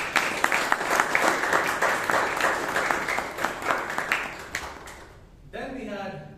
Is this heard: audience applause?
yes